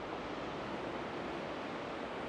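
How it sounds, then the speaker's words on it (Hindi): River water rushing in a strong flow at a riverside in Tashkent, a steady broadband wash with no breaks, fairly faint. "तो यहाँ पानी का रश चेक करें यार, क्या ज़बरदस्त पानी का फ़्लो है यहाँ पर।"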